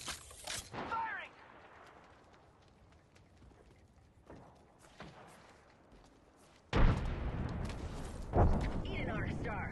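Gunfire in the video game Apex Legends: sharp bursts of shots at the start, then a louder sustained barrage later, mixed with game effects and a character voice calling out.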